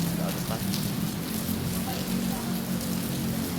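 Rain falls steadily on surfaces in Marikina, Philippines, a dense, even hiss of heavy drops that holds at a constant loud level without pauses.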